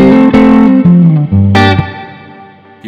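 Electric guitar plays a short riff variation of a song through effects and distortion: a few loud, reverberant descending notes plucked close up, ringing out and decaying alone with no voice.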